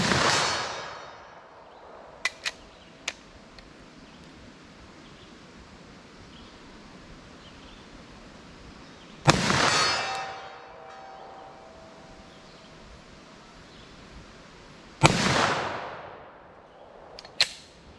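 Three loud, sharp 10mm handgun shots fired at a steel silhouette plate 75 yards away, each a broadband crack with a ringing decay, spaced several seconds apart over faint outdoor wind noise.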